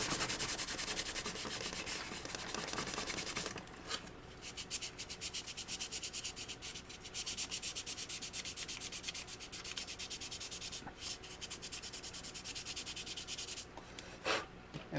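Sandpaper of 320 grit rubs across a plastic model kit of a Colonial Viper in steady back-and-forth strokes, close and fairly loud, with a few short pauses.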